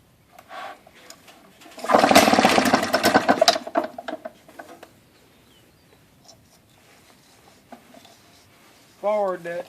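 An Outboard Motor Corporation inboard kicker engine cranks over, a loud rough churning burst lasting a couple of seconds that then fades to faint rattles, with a voice briefly at the end.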